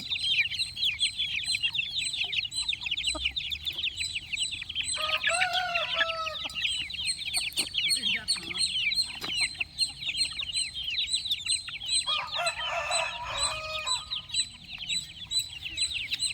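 Many chicks peep constantly, close and bright, during morning feeding in cold weather, while adult hens break in twice with bursts of clucking and no one speaks.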